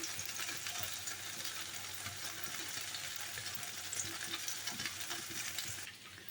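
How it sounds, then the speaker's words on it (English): Fried potatoes roasting dry in a non-stick pan, a dense even sizzle with light crackling and occasional stirring, close and steady before easing off near the end, no voices. "we've fried the aloos and put it for dry frying as well"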